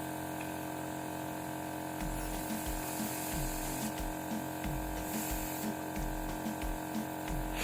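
Airbrush machine spraying cake decorating colour onto shiny paper, a steady hissing spray with a low pump hum running underneath and short pulses as the trigger is worked, continuous and close.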